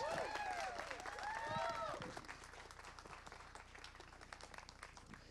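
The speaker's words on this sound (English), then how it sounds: "Give me a big round of applause for Larry Bond" Audience applause at a Walking Dead fan convention panel, a wash of clapping from a crowd in a hall with whistles and cheers rising early, then settling into steadier, softer clapping.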